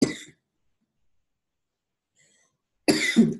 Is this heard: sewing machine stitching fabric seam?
no